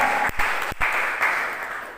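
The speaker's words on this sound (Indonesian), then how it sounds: "Beri tepuk tangan terbaik buat Tuhan." Church congregation applauding during a sermon, a steady wash of clapping hands lasting about two seconds, fairly loud and close, with a couple of brief dips in the sound.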